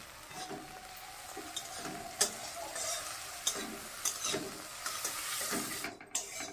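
Dried shrimp fry in a pan with a soft, quiet sizzle, broken by scattered stirring scrapes and light clicks from a utensil, with no voices present.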